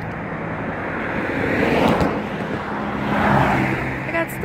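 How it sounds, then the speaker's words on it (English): Two cars pass along a street, a broad rushing swell of tire and engine noise rising, fading and rising again as each drives by at moderate distance. "Oh yeah, two cars coming."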